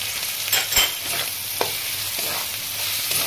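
Masala of chili and cumin powder with salt frying in a pan for Kolkata-style chicken keema, a steady soft sizzle with a few brief stirring scrapes, close and fairly quiet.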